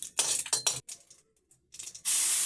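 Cumin seeds and dried red chillies go into hot oil in a pan for a mushroom and paneer dish, giving uneven bursts of crackling sizzle followed by a sudden loud, continuous hiss at the end.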